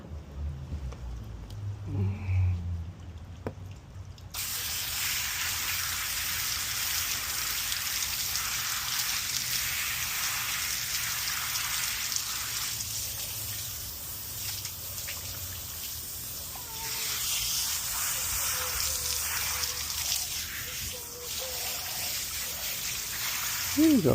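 A steady hiss of water spraying from a hose onto a cleaned surfperch runs continuously after a brief quiet start, a close, even gushing sound.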